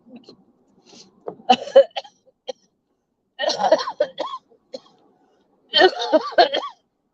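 A person ill with Covid aboard the Carnival Spirit cruise ship coughs in three harsh, close bursts separated by quiet pauses, the later fits longer and raspier.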